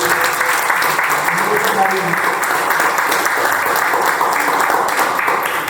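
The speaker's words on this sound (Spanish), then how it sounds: "un aplauso también" Loud, sustained applause from a crowd, a dense, steady wash of clapping that continues without a break.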